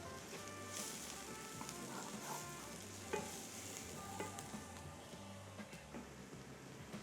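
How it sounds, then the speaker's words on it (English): Garlic sautéing in a pan on a stovetop for stuffed bell peppers, a steady close sizzle with scattered soft scrapes and stirring clicks, no talking. "Now I'm gonna go ahead and add my garlic in and saute that for about a minute"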